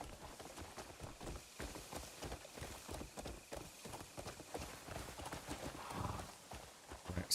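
A ridden horse gallops in the game Crimson Desert, rapid rhythmic hoofbeats with a faint whinny, fairly quiet overall, with a light rain-like hiss underneath.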